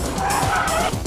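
A car skidding during drifting, braking and a feint manoeuvre, heard as a brief, loud, rough tire squeal over engine noise, lasting about a second.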